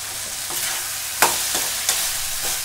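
Drumstick leaves and cooked rice sautéed in a pan: a steady hiss of frying with several sharp spatula scrapes and stirs spaced about a third of a second apart, close and fairly loud, with no talking.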